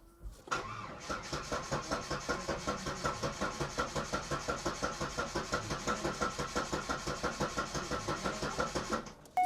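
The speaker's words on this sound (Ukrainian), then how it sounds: "Давайте спробуємо прокрутити двигун." A Daewoo Nubira that sat unused for five years cranks on its starter for about nine seconds with a steady, rapid rhythmic churning that never catches, loud and close with no talk.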